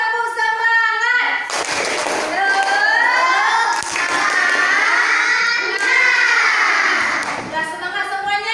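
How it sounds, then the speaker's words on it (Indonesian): A class of children doing a rhythmic spirit clap together, loud and close. Bursts of patterned clapping alternate with the children shouting and chanting in unison. "1, 2, 3, tepuk semangat."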